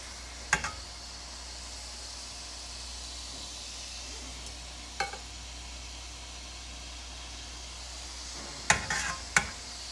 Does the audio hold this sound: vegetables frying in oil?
yes